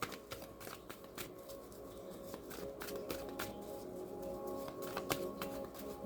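Tarot cards are shuffled, a soft continuous riffling with scattered light snaps and flicks, close but quiet over a faint background hum.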